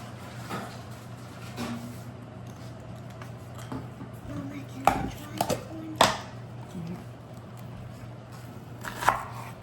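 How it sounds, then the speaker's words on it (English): A few scattered knife chops on a cutting board, faint and irregular, over a low steady hum with quiet background noise. "Just going to chop this up really quick."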